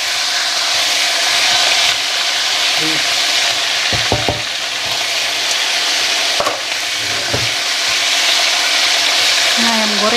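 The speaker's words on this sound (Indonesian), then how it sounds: "saya lagi bikin ayam goreng buat makan siang" Chicken sizzles and crackles steadily as it fries in a hot pan, with a few clinks and scrapes of a utensil stirring now and then.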